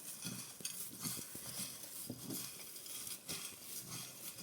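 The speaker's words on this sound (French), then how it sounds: "Je mélange bien." A spoon stirring Christmas citrus tea with cloves and lemongrass: irregular clinks and soft knocks against the container, with a light swishing of liquid, close and fairly quiet.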